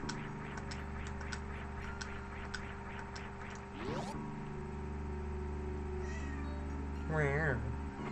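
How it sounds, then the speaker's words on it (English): Pet cat in a home, a clear nearby meow standing out over a steady background hum and faint ticking, with a person talking softly before it. "She's gonna meow."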